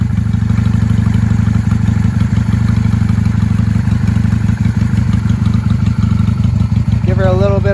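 A cold 1995 Honda Shadow VLX 600 V-twin idling close by, a loud, steady, lumpy low thrum with clattery pulses throughout, and a brief voice chiming in near the end.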